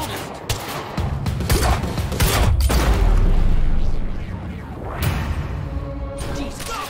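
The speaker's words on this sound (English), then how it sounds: "Target's armed! Opening fire!" Heavy gunfire in the video game Quantum Break, a sustained barrage of loud shots and booms with crashing impacts, rising to a dense peak midway before easing into scattered bursts.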